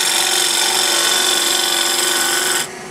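A 1/2 inch Ellsworth grind gouge takes light slices on spinning wood at the lathe, making a steady, loud, continuous scraping hiss that stops abruptly near the end. Nobody speaks.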